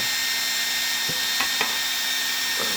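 A steady high-pitched whirring hum from the small cooling fan of a welding inverter runs continuously and loudly, with a few faint clicks and knocks over it.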